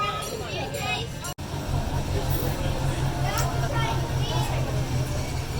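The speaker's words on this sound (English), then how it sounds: "go on the Scenic Railroad train tour of Lake Winnie" Lake Winnie scenic railroad tour train rumbling along at an amusement park, a low steady rolling drone with passengers and children talking over it and a brief dropout partway through.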